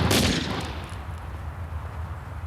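Gunfire in a war film soundtrack, left natural rather than enhanced: a sharp burst of shots at the start, then a dense, rumbling low roar of continued firing and battle noise carrying on without voices.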